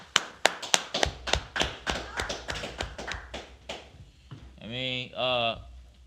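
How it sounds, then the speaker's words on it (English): Members of a Wednesday night law class clap in a quick burst of sharp, close claps that thin out over a few seconds, then a voice speaks alone at the end. "Let's clap it up."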